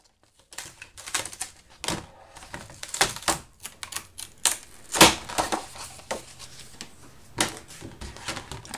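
A Cricut cutting machine at work on a scallop frame gift card, with a run of quick clicking and tapping mechanical bursts, close and fairly loud, no speech.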